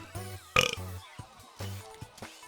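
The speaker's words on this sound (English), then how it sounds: "Just embrace the burps at this point." A man burps repeatedly while gaming, with several deep, croaking belches in quick succession, loud and close, separated by short pauses.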